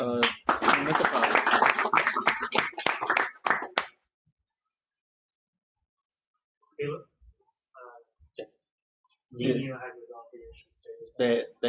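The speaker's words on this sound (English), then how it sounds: "let's have one more round of applause for Municipal" Audience at a hacking competition's final presentations gives a team a round of applause, a loud burst of clapping lasting a few seconds before fading to silence, followed by scattered speech.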